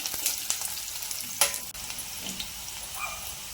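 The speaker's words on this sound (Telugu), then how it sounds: "అలాగే కట్ చేసి పెట్టుకున్న గ్రీన్ చిల్లీని కూడా వేసుకొని ఫ్రై చేసుకుంటున్నాను." Onions and green chillies fry in oil in a pan, a steady bright sizzle with crackles and a few sharper spatters and stirring clinks, close and continuous, with no voices.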